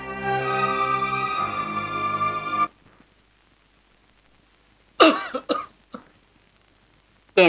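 A person in a dramatic film scene coughs in a short cluster of harsh, close coughs, following a sustained tonal sound that abruptly stops and leaves a quiet gap.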